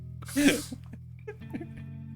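A single sharp sneeze bursts out near the start, followed by a quiet gasp and small movement noises over a steady low hum.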